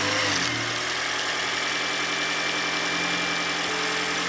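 A Toyota GR Prius engine, fitted with a cold air intake, catches and settles into a steady, low idle rumble, close and continuous with a slight vibrating throb.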